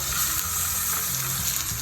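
Chicken drumsticks sizzle in a pot of soffritto with rosemary and sage, a close and continuous frying crackle with faint stirring.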